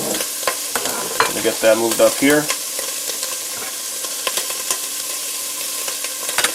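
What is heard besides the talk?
jambalaya sizzling in a frying pan while stirred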